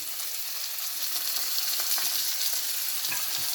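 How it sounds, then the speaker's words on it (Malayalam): Coconut pieces frying in a pan with onion, a dense continuous sizzle crackling evenly and close up with no voices over it. "ഇനി നമുക്ക് തേങ്ങാക്കൊത്ത് ഇതിലോട്ടിട്ട് ചെറുതായിട്ടൊന്ന് വറുത്തെടുക്കാം"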